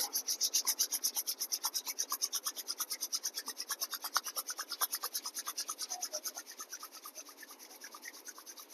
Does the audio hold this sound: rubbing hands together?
yes